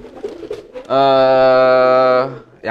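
A single loud, sustained racing pigeon coo at a market lasting over a second, close and clear, with faint voices before it.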